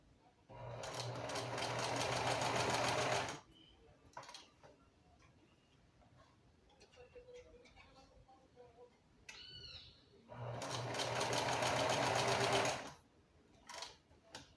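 A domestic sewing machine stitches a seam on a baby look t-shirt in two loud, steady whirring runs of a few seconds each. Quiet handling noises and a brief chirp fall in the pause between them.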